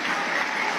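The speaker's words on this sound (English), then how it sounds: "stand up and clap your hands" A church congregation at an Assemblies of God gathering claps its hands, a dense, steady wash of many hands with no distinct individual claps, very brief.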